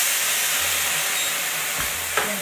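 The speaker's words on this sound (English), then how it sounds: "tequila goes in the pan" Tequila poured into a hot pan of shrimp sizzles and hisses steadily and close by, with a faint clink near the end.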